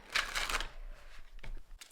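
Playing cards are shuffled in a quick, crisp riffle that is loudest in the first half-second, followed by a few fainter rustles and taps, close and fairly quiet with no talking.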